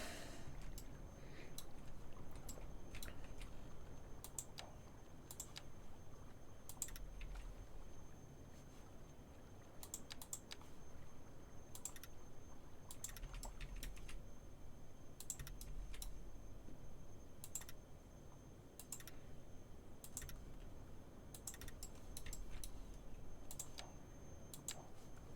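Someone types steadily on a computer keyboard while playing Cities Skylines 2, with quiet, close clicks in irregular bursts and short pauses over a soft background hum for about twenty-five seconds.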